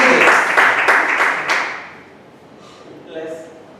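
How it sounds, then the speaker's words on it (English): An audience at a Toastmasters debate meeting applauds the teams with a dense burst of clapping that fades out after about two seconds, followed by faint room noise and a brief murmur. "Let's have another round of applause for the teams,"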